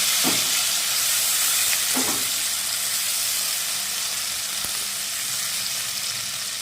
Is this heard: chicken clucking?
no